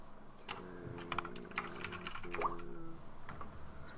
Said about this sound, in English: Typing in like 17 words and then.